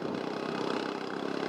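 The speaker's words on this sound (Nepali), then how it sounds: "कस्तो आवाज आएको प्याटर गरेको स्कुटरको आवाज हो" A scooter engine sputtering and straining uphill on a cold mountain road, a steady rough mid-pitched drone heard up close with no talk.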